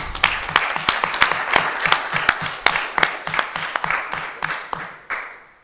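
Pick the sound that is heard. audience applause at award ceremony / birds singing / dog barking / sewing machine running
audience applause at award ceremony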